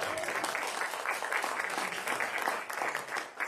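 Applause from a church congregation at a Sunday worship service, steady dense clapping throughout with no pauses, fairly close and filling the room.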